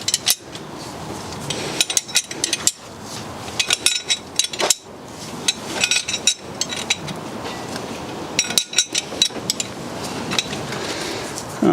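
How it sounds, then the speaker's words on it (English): A 30mm spanner works a glow plug extractor tool on a snapped glow plug, giving a run of sharp metallic clanks and clicks in irregular bursts, close and fairly loud, with no talk. "then we can just tighten this down with a 30mm spanner"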